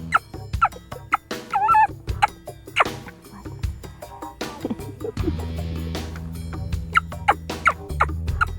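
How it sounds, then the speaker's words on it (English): A wild turkey gobbles in short bursts several times in response to a turkey call, with rattling calls over a low, steady hum of background noise. "Listen to that bird gobbling. There's a turkey responding to the call"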